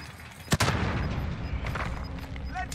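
A frag grenade explodes in Call of Duty Warzone, one sharp, loud boom early on followed by a short rumbling tail, with scattered battle noise and game effects continuing behind it.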